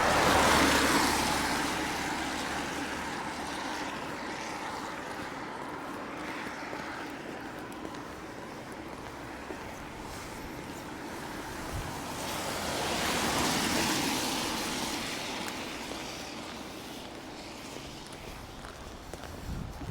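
Floodwater of the swollen River Waveney rushes past in a continuous broad wash, moderately close, swelling louder partway through, with occasional light footsteps and no talking.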